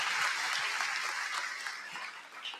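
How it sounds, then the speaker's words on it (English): Crowd applause at a political rally in Florida's 17th district, moderately distant and steady, tapering slightly toward the end. "So give yourselves another applause."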